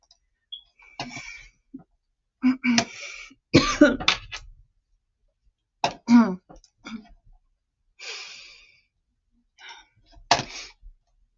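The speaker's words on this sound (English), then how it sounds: "I'm sorry, I'm coughing on camera" A person coughs repeatedly at close range indoors, short harsh bursts and throat clearing coming in irregular clusters separated by quiet pauses.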